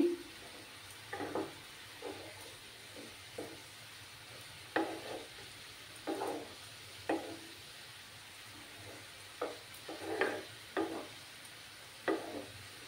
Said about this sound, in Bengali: আর তার মধ্যে এবার দুটো ছেঁড়া কাঁচা লঙ্কা দিয়ে দিচ্ছি আমি।